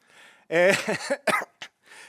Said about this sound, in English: cough again.